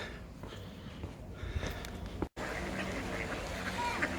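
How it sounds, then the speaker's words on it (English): Several ducks quack faintly amid outdoor ambience in Hebden Bridge, with a brief dropout midway and a steady background hum. "That is a lot of ducks at once"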